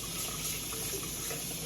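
Tap water runs steadily as a French press is rinsed out, a constant close splashing wash with no voices.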